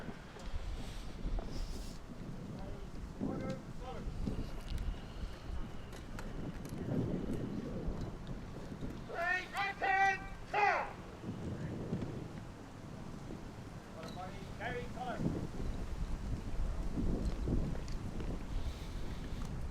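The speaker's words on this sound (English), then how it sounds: "Especially windy, cool day here." Wind buffets an outdoor microphone on a cool, blustery day at a Remembrance Day parade ceremony, producing low, rumbling gusts that rise and fall throughout, with faint background voices and distant tones partly masked.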